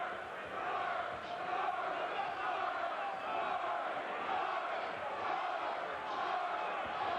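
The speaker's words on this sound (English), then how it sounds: "The crowd is chanting, George, George, George." Boxing arena crowd at a heavyweight bout chanting in unison, a loud continuous wash of many voices filling the hall with a rhythmic pulse, no clear single speaker above it.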